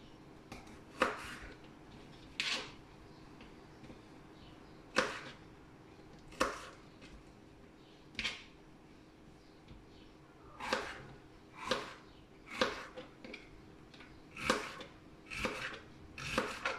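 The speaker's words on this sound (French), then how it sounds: "De mixer son oignon et son ail dans le Turbo Max ou le Turbo Top" Onion and garlic are chopped in a Turbo Max manual food chopper, making a series of irregular short rasping pulls and cutting bursts, close and fairly quiet.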